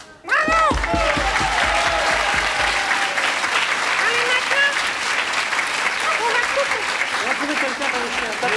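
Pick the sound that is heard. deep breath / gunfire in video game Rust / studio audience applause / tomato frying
studio audience applause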